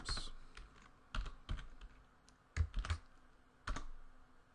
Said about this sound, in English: Trouble typing.